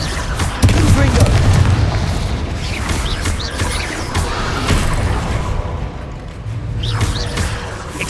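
Fire-blast spell explosions in a Hogwarts Legacy cavern battle, heavy booming blasts rolling continuously over a dense, loud combat din with repeated bursts throughout.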